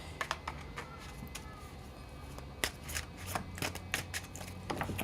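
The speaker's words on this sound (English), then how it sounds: "let me cleanse these cards before I shuffle anymore" Tarot cards being shuffled by hand, producing quick crisp riffles and soft flicks in irregular bursts, close and moderately quiet with no talking.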